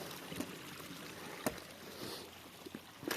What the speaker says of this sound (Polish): Wodospadzik, znaczy wodospadzik.